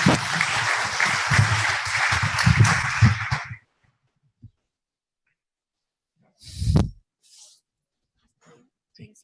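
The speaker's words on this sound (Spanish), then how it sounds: "recibamos con un caluroso aplauso a nuestro expositor" An audience gives a few seconds of clapping to welcome an engineer presenting on a coastal railway megaproject in Peru, the sound stopping abruptly into near silence, followed by a brief thump and faint scattered noises.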